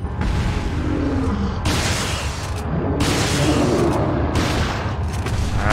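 Repeated loud bursts of gunfire in the video game Resident Evil 4, a steady barrage broken by brief pauses, with no talking.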